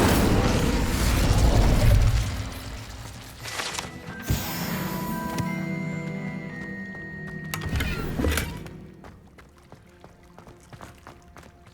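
Incendio fire spell cast in Hogwarts Legacy, a burst of magical flame with whooshing, popping and crackling bursts layered over game ambience and music, loudest early on and again with a second burst near the end.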